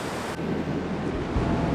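Steady broadband roar of surf and wind on a beach at night, constant and loud with no pauses, a gust-like rise partway through and deeper rumble near the end.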